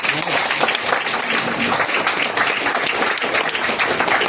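An audience at a business talk breaks into sustained applause: dense, even clapping from many hands that holds steady at full strength throughout.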